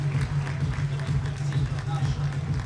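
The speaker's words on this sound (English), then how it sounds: "Big round of applause from the fans in attendance" Baseball fans at a ballpark clap and murmur from the stands in a steady, moderately loud spread of applause over a low crowd rumble, with voices mixed in.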